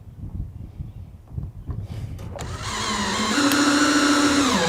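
A power driver sinks the last screw into a flange on an IBC tank being set up as an off-grid septic tank. Low knocking and handling noises come first, then the motor whine rises and holds steady and loud near the end.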